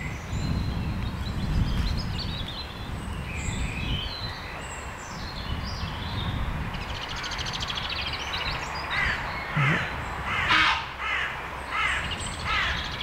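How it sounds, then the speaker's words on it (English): Ravens give repeated harsh, croaking caws in woodland on the Isle of Arran, mid-distance over constant rustling ambient noise, with the calls clustering toward the end. "You hear the ravens now."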